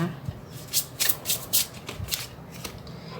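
Tarot cards are shuffled close by in several quick riffling bursts, crisp papery flutters separated by short pauses, with some faint talk around them.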